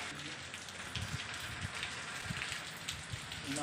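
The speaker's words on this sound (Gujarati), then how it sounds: "જોવો તમને વરસાદ બતાવું પહેલાં" Steady rain pattering on surfaces nearby, a continuous dense hiss with scattered heavier drips, no talking.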